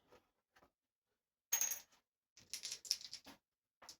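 Dice clatter during a tabletop war board game: a few sharp rattling bursts of small cubes tumbling onto a hard surface, one quick roll followed by a longer, bouncing scatter, close and alone with faint taps between.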